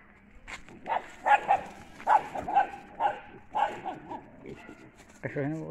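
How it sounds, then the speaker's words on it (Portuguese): Small puppy at a camp on a rural pig farm, giving a run of repeated short yips and whimpery barks in an irregular rhythm, close to the microphone, with a voice at the very end. "Cachorrinho gostou."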